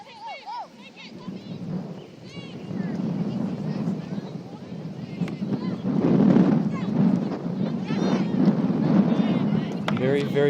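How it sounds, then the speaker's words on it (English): Strong gusts buffet the microphone at an outdoor amateur soccer match on a windy, cloudy Philadelphia afternoon, a rumbling roar that swells and stays loud through the clip. "Very windy here"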